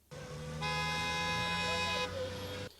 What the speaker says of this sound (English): Milling crowd, impatient cars honking, and minor scuffles.